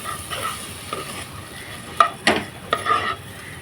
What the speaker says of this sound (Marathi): दीड दीड वाटीच आहे राईस परतवून देऊ आपण